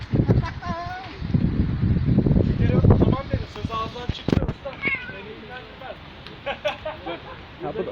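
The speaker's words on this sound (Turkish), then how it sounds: "Bu arkadaşlar bu kedimiz çok sevimli. Bu yavru kedimiz." A young kitten living on the street gives several high, thin meows, some overlapping and some spaced apart, close to the microphone, with wind noise and a person talking over them.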